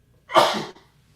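One loud, nearby sneeze, a quick breathy burst lasting under half a second, with nothing else around it.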